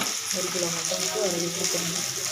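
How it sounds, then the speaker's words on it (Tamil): Onion, ginger and garlic fry in hot oil in a pan for mutton curry, a soft continuous sizzle with faint stirring and scraping, close and steady with no talk. "பொன்னிறமாக வணங்கிருச்சு நம்ம வெங்காயம், இஞ்சி, பூண்டு"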